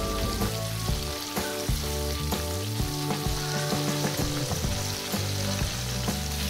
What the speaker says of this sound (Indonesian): Goreng sampai warnanya kuning keemasan dan matang.